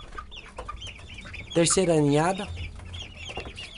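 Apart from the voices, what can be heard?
young Japanese silkie rooster crowing and clucking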